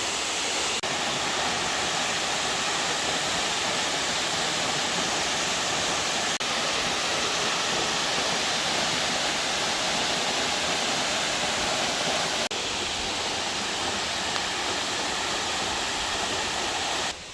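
Piney Falls waterfall pours in a steady, dense roar that holds constant and loud throughout, with no voices or other sounds breaking through.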